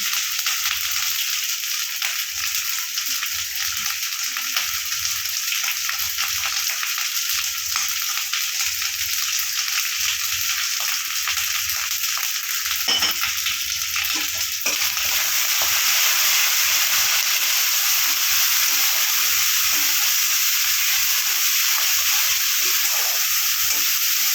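Cumin, coriander and garam masala powders with salt and sugar fry in oil for a fish curry, a steady loud sizzle running throughout with faint low stirring knocks and no talk.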